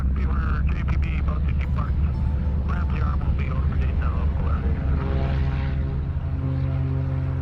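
Propeller airplane droning steadily with a deep engine hum over the British Columbia coast, while a person talks over the cabin noise.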